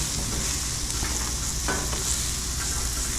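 Garden carrots spread into a hot pan give off a loud, continuous sizzle and frying crackle, with a few brief scrapes of stirring over the top.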